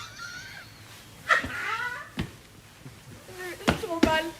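A cat meows in a few short, rising cries amid low thumps and background noise, fairly close.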